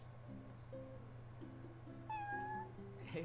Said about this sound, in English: It's a cat. A cat has a quest?